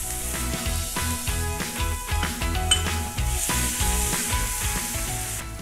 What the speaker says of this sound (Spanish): Vamos a cocinar la cebolla, tomate y ajo en mantequilla.